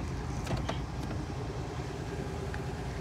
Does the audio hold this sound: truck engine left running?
yes